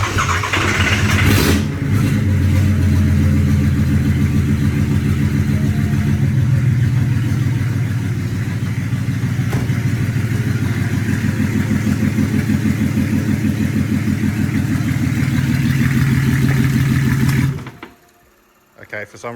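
A Nissan C33 Laurel with a newly fitted motor cranks and fires, then runs at a loud, steady idle for about seventeen seconds before cutting out abruptly. Faint voices sit beneath the engine noise.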